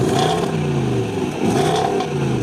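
A deep V8 engine rumbles loudly and steadily, revving up and down in two swells, close by with no talking.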